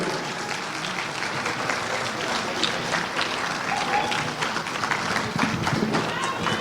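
Audience applause welcoming a mayor to the stage at a community celebration, continuous dense clapping from a sizable crowd, steady and fairly full without pause.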